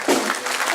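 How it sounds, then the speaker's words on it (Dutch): A short burst of audience clapping for a young carnival comedian at a Dutch stage show, a dense, fairly loud wash of hands lasting under a second. "Een applaus voor Irene van der Kruis."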